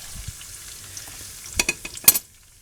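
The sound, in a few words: potato soup toppings frying in a pan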